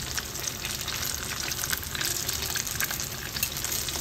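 Pork lechon kawali deep-frying in hot cooking oil, a steady dense sizzle and crackle that holds at an even level throughout, close by with no voices.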